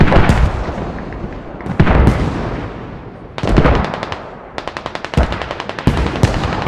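Battle in the video game Squad on the Chora map, with heavy booming impacts and rapid bursts of automatic gunfire, loud and close, arriving in clusters with short lulls between.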